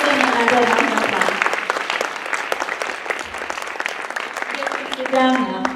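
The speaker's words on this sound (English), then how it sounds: "Give them another round of applause." An audience applauds after a group presentation: dense clapping starts strong, eases into a steadier patter, then swells briefly again near the end, with some voices mixed in.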